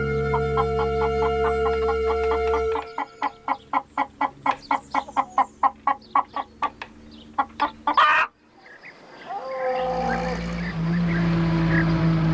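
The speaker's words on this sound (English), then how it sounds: "Drew a hen that had walked into the churchyard." A hen that has wandered into a churchyard clucks in a quick run of short, evenly spaced calls, fairly close and clear, with a steady tonal background before and a brief break near the end, and no talking.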